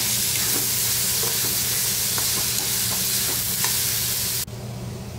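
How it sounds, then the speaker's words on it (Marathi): Onion and tomato sautéing in a pan for baingan bharta, a steady loud sizzle with scattered stirring scrapes, then the frying noise drops suddenly near the end. "आता हे सगळं परतून घेऊया व्यवस्थित."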